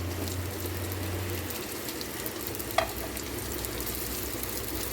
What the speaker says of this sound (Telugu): ఇప్పుడు మనం రైస్ వేసేసుకుందాం.